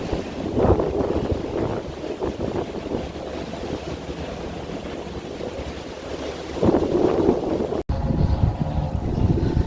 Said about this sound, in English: A little windy out here today, but man, is it beautiful.